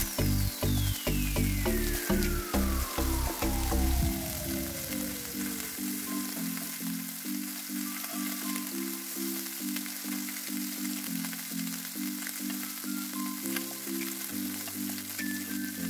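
Fish sizzles loudly on a hot tawa, with several sharp scraping strokes of a spatula early on as the pieces are turned, then a steady, close frying hiss continues alone.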